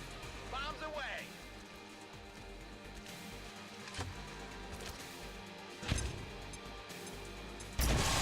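A bomb is dropped and explodes in XCOM 2: a thud lands around the middle, then a heavier, booming blast near the end, while voices talk beneath the game's background.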